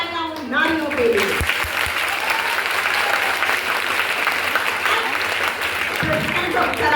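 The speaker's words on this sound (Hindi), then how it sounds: "जोरदार तालियां उन नारियों के लिए" Audience at an Independence Day poetry recitation breaking into loud, sustained applause for several seconds, dense clapping from a crowd, preceded by a brief voice.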